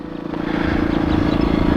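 Engine of a Bitgo Hobby B26 RC model airplane at three-quarter throttle on its maiden flight, a steady buzzing drone that swells slightly and then holds loud and continuous throughout.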